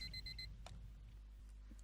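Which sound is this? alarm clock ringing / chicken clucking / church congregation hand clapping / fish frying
alarm clock ringing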